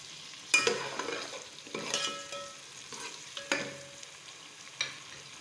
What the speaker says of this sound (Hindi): इनको थोड़ा सा फ्राई करूँगी